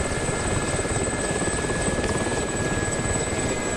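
Attack helicopters in a combat flight game, a nimble SA-342 Gazelle and a heavy Mi-24, fill the air with a steady, loud rotor thrum and turbine whine that holds constant throughout.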